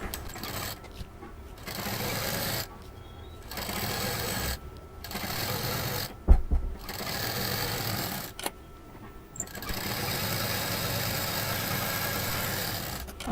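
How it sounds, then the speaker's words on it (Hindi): A sewing machine stitches the sides of a reversible cloth shopping bag, whirring steadily in repeated runs of a second or two with brief pauses between, close and alone. "सेम प्रोसीजर में जो दूसरा साइड है उसको भी जोड़ने के बाद दाब मशीन चला देंगे"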